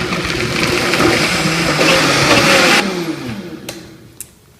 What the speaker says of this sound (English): we'll blend it all up in the Vitamix